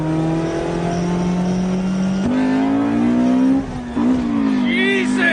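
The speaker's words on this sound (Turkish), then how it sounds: "VTEC açmak dedikleri o meşhur tekme, o bağırtı tam olarak buydu" Honda Civic Type-R with its 1989 B16A VTEC engine revving hard, a loud sustained engine note that climbs sharply in pitch partway through, briefly dips, then rises again.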